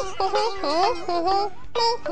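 High-pitched, chattering cartoonish monkey voices from Super Monkey Ball squeal and warble in quick bursts, bright and close.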